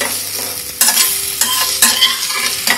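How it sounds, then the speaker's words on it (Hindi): Rolls stirred in a kadhai with a metal spoon, scraping strokes repeating over a continuous close sizzle of frying oil, with no talk. "इस तरह से कढ़ाई में चला लेंगे।"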